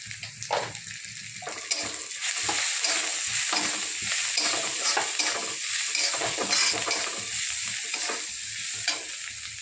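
Turmeric, asafoetida and salt stirred into eggplant frying in a pan, a close, steady oily sizzle with repeated scraping stirs of a spoon against the pan throughout.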